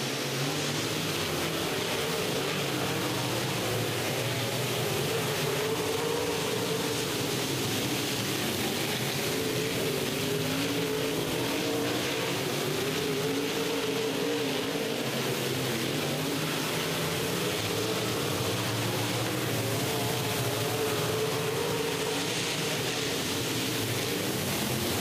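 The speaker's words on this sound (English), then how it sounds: "Sailing down the back straightaway over in turn three and four off of Stanley Donahue's right" UMP modified race cars roar around the Volunteer Speedway oval in a steady, distant, continuous engine drone with crowd-like wash, no distinct passes standing out.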